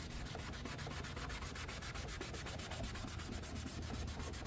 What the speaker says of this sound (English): you put on this scrubbing pad and you go supposedly back and forth.